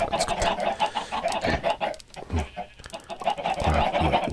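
Chickens in a coop in the video game Minecraft cluck repeatedly in short, close, overlapping bursts, a busy flock heard loudly throughout with no talking.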